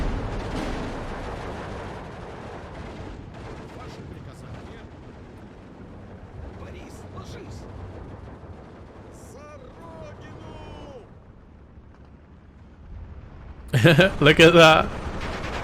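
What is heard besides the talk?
ML-20 howitzers firing in Steel Division 2 video game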